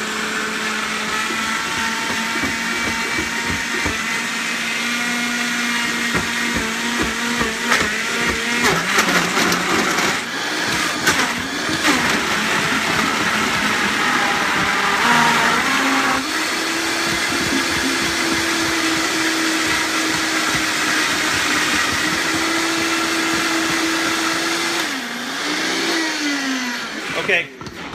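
A blender whirs loudly and continuously making a strawberry smoothie, its motor pitch shifting and straining as thick contents churn, with a few brief dips and surges.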